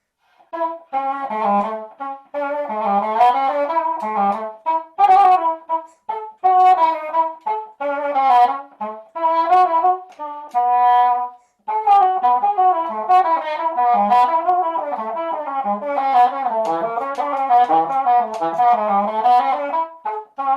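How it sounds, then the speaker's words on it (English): A baroque oboe da caccia, a reedy, mellow double-reed instrument, plays a flowing melodic line alone, with brief pauses between phrases. "Now the instrument I've been really excited to show you is an oboe da caccia."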